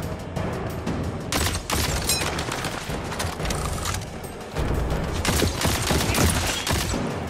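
Dense, continuous gunfire and explosive bursts from the video game Tiny Tina's Wonderlands fill the scene loudly, with rapid overlapping shots and booms that swell again after a brief dip midway.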